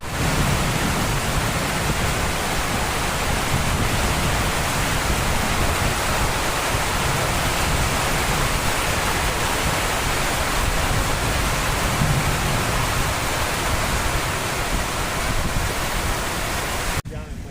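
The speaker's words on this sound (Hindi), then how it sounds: "हल्की बूंदें भी शुरू हो चुकी है" Light rain falls during a thunderstorm on a dairy farm at milking time, a steady, dense hiss that holds unchanged throughout. No distinct thunder claps stand out.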